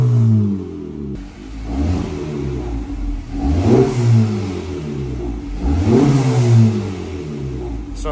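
An FL5 car with its exhaust valve open revs twice. Each blip rises sharply to a loud rasping peak and then falls away over a steady, close idle rumble.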